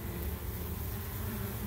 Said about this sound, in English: So, there are bees everywhere out here.